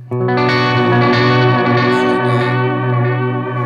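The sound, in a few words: guitar with modulated delay and reverb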